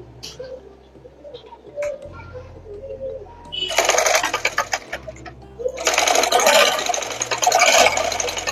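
A sewing machine stitches scrunchies in bursts of rapid, steady whirring clatter, close and loud, separated by quieter pauses with a low electrical hum underneath.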